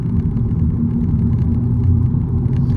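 Cabin rumble of a 2025 Honda Civic e:HEV hybrid driving and cornering: a loud, steady low road and engine drone with slight swells, no voices over it.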